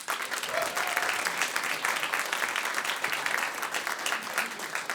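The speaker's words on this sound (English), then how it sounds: "let's give one more round of applause for all of those volunteers" A crowd applauds steadily for volunteers at the CASMA 2022 awards event, with dense, even clapping at a moderate distance that holds at the same level throughout.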